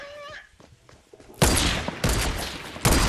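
A turret firing in Fortnite, with loud dense bursts of automatic fire starting partway through and repeating in close, heavy volleys after a quieter opening.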